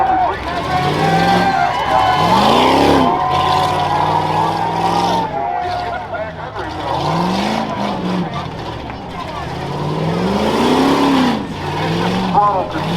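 Two-wheel drive Jeep racing a rough truck course at the Hartford Fair, engine revving and bogging in repeated rising and falling sweeps as it bounces and slides, with an announcer talking over it throughout.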